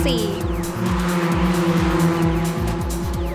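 Toyota Vios and Yaris race cars on a circuit in Phuket, engines roaring loudly as the cars pass close by, with rising and falling revs and gear changes layered over one another.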